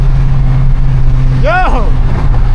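Loud, close engine drone of a Ford Mustang GT with a catless straight-piped exhaust, mixed with wind rush, a rising whistling whine swelling briefly partway through, and a voice speaking in the cabin.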